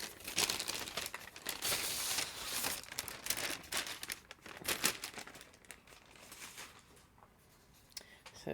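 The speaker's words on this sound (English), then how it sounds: "Apparently I'm just going to rip this bag open today." A plastic bag holding yarn for an Evertote Nordic advent countdown is torn open indoors, giving close, loud crinkling and tearing bursts that fade into softer rustling and handling.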